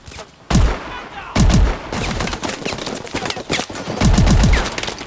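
Rapid bursts of heavy automatic shotgun fire in a first-person shooter video game, loud and close, in three quick volleys with short gaps between.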